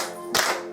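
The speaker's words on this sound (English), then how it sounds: "Clap your hands," A single sharp hand clap during a music-and-movement song session, one crisp near clap standing out over quiet background music.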